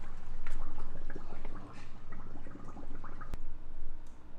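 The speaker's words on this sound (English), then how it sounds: "You can hear the water." Water rushes steadily into a discus aquarium tank after the pump is primed, a continuous splashing flow with small drips and gurgles throughout and no talking.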